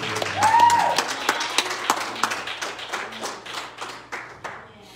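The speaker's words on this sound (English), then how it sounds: "Will you clap your hands in the Lord?" Church congregation clapping hands in steady, evenly spaced claps that gradually thin and soften, with a brief sung or called note near the start over a low hum.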